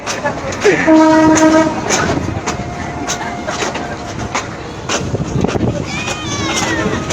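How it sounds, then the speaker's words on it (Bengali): A slow-moving train on a newly opened line at Ramana Bazar near the Brahmaputra blows a loud horn early on, then rumbles on steadily with wheel clatter as people talk nearby. "ট্রেনটা এমন ধীরে যাচ্ছে"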